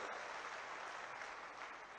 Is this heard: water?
no